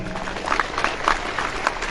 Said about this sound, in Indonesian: Ya, sekali lagi tepuk tangan untuk para santri.